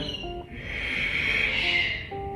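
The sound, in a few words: ujjayi yoga breathing, exhale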